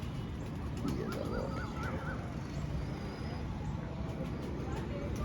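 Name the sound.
pigeons cooing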